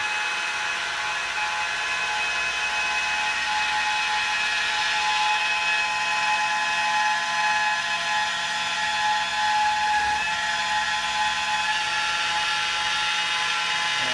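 Car polisher buffing paint on low speed, a steady, even whirring motor whine with a high-pitched tone that holds throughout, close and moderately loud, with no speech.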